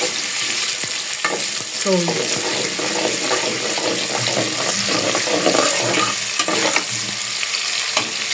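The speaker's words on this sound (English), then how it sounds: "So I'll add my onions." Sliced onions fry in a pan for a pepper stew, a steady sizzle with stirring and scraping running throughout, close and fairly loud, with brief speech at the start.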